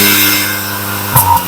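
A Tata Altroz Racer hatchback idles outside with a steady, low exhaust drone from its silencer, close and loud, followed by a brief rev that swells and settles back.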